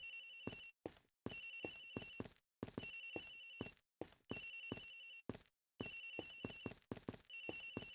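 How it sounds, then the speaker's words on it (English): A mobile phone in the Ace Attorney Investigations video game rings in repeated electronic bursts, each a trilling ring of under a second separated by short silences, steady and unchanging in loudness with no talk over it. "Agent Hicks's phone! It's ringing from somewhere, sir."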